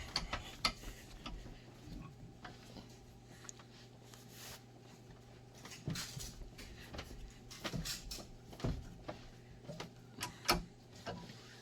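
A print press is cranked down onto a custom print with foam underneath, producing quiet, irregular mechanical ticks and clicks like a ratcheting handle, faint and close over low background hum.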